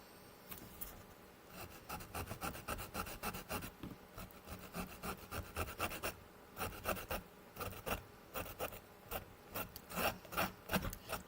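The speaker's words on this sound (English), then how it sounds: "Let me scrape this off." Palette knife scraping paint from a surface, a steady series of close, rasping strokes that repeat in quick rhythmic bursts, with no talk.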